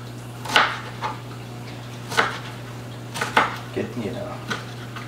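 Kitchen knife chopping vegetables for a chicken noodle stew on a cutting board, a few separate knocks spread out over several seconds, near and fairly soft, over a steady low mains hum.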